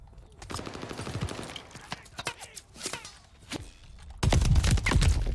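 Gunfire in the shooter game Call of Duty: Vanguard, several sharp shots and bursts spread through the stretch amid footsteps and thuds, ending in a louder, denser close-range barrage.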